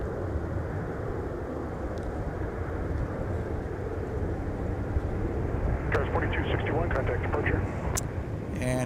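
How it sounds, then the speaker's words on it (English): A Lufthansa Airbus A340-300 arrives at Minneapolis–St. Paul airport, a steady broad engine roar heard from a distance, with faint radio chatter creeping in near the end. "Getting footage of the arrival that took place moments ago of Lufthansa 482 Heavy with the"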